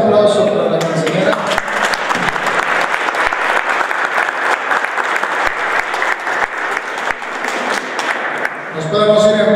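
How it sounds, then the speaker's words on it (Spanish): A church congregation at a quinceañera celebration applauds the counselor, a full round of clapping that rises after a brief spoken line and fades back into a voice at the close. "un aplauso para la consejera"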